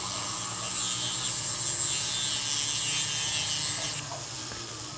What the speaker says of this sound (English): It's kind of neat to be able to look at it and see that hole being drilled towards you